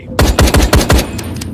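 Several sharp gunshots ring out in a film scene, five loud close reports in quick irregular succession followed by two fainter shots, with no talk.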